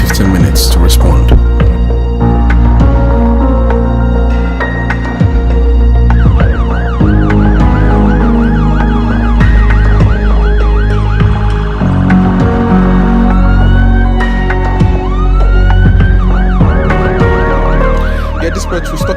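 An ambulance siren wails in repeated rising and falling sweeps, loud and close, over heavy low traffic rumble. Voices talk over it now and then.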